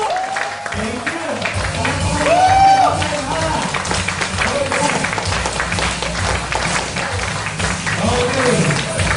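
Applause and crowd noise from a morning business presentation audience welcoming a company president on stage, steady clapping that swells around the middle, with people talking and an announcer's voice over it.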